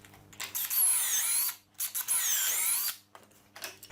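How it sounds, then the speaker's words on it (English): A drill bores pocket holes through 1-inch-thick crown moulding stock held in a pocket hole jig, in two loud high-pitched whining bursts of about a second each, separated by brief pauses. "I'll drill in the pockets for these screws"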